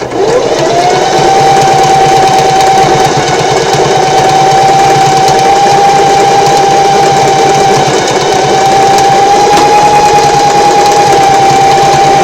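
Sewing machine running steadily for several seconds as it stitches back and forth over a quillow strap, a loud, continuous mechanical whir with a sustained tone and no pauses.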